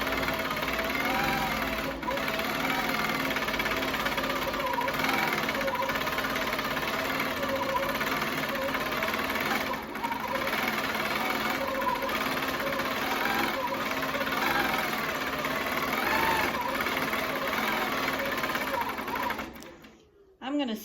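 A sewing machine runs continuously, stitching tightly to quilt together fabric layers from attic finds, its steady mechanical hum and rapid needle clatter going on for a long stretch before stopping near the end, with someone talking over it.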